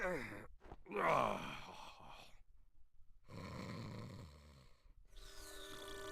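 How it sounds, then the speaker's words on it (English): Pikachu snores in the 3DS game Detective Pikachu, with breathy snorts and groaning exhales in a few separate bursts, near and fairly loud, followed by a brighter tonal passage of game sound. "Of course he's snoring."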